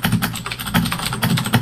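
Loud, rapid clattering of a computer keyboard during a CS:GO session, keys struck in quick irregular bursts close to the microphone.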